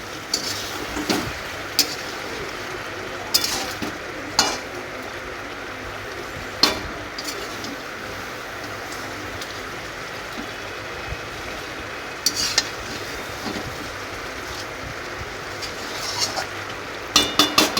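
Chicken curry cooking down in a pan until its released water dries off, a low steady sizzle with occasional sharp scrapes and clinks of a stirring spoon, fairly faint overall.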